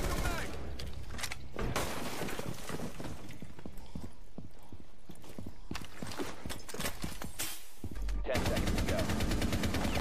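Automatic gunfire from the video game Rainbow Six Siege, with dense bursts of rapid shots running through most of the passage and a sharp louder burst near the end, with game noise throughout.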